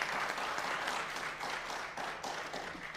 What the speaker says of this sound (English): can we please give the board a round of applause?